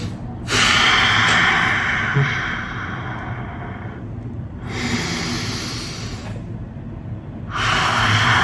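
Slow, deliberate breathing exercise with long drawn-out exhales, heard as three broad airy breath sounds in succession, close and fairly loud, with quieter pauses between them and no talking.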